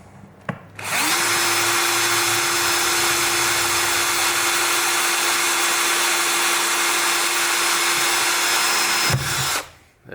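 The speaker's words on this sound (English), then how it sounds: "I'll keep drilling." A power drill bores through a metal hinge mount on an HP x360 14 laptop, one sustained high whine running steadily for about eight seconds before stopping abruptly.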